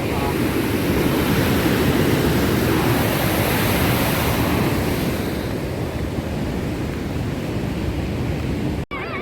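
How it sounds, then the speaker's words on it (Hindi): Fast-flowing river water at Rishikesh rushes in a loud, continuous, close hiss that stays steady throughout. "देखो यहाँ कितना तेज है पानी का बहाव।"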